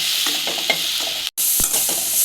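Capsicum and soya chunks frying with spice powder in a pan, a loud continuous hissing sizzle with light stirring clicks, broken by a brief cut to silence midway before the sizzling resumes.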